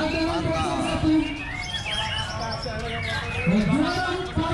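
A contest songbird at the Bogor All Star bird competition sings bright chirping phrases close by, mixed with crowd chatter and voices in the background.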